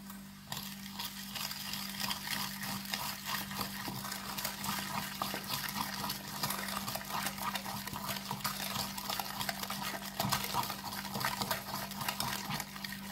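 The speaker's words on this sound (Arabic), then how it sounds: "غادي نخلط مزيان حتى كيرجع الخليط بحال الكريمه" A whisk beats egg yolks and sugar in a bowl toward a creamy mixture, making a quick, steady clinking and scraping that runs on without a break over a low background hum.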